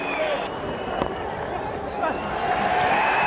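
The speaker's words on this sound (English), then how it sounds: "Applause from the Australian players and from the spectators around the ground." Crowd noise from spectators around a cricket ground during a West Indies versus Australia Test, with applause from fans and Australian players as Mark Waugh reaches his eighth Test century; a steady, distant roar of cheering and clapping that swells slightly toward the end.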